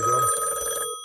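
A single short burst of a telephone bell ringing on a line with a supervision charge indicator, a metallic trill lasting under a second before cutting off sharply.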